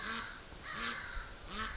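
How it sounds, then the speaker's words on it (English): Three rough, harsh caws from crows in a bush, evenly spaced and fairly faint, with rain-soaked outdoor ambience between calls. "The crows are all in the bush there."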